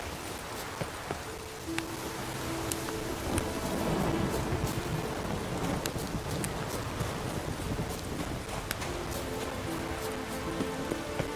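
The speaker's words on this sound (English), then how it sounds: "The rain." Rain and rolling thunder in The Witcher 3, a steady wash of rainfall with low rumbles underneath and a few sharp drips and clicks, holding at an even, fairly loud level throughout with no talk.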